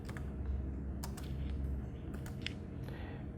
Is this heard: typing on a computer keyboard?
yes